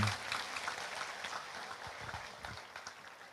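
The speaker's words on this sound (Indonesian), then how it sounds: "beri tepuk tangan." Crowd applause at a large Islamic religious gathering in Indonesia, a dense continuous clatter of many hands at moderate distance, holding steady for a few seconds with some louder claps near the microphone.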